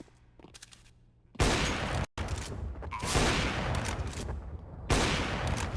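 Loud Counter-Strike gunfire arrives in heavy bursts after a quieter start, with a sharp cutoff near two seconds, then sustained rapid shots and echoing booms.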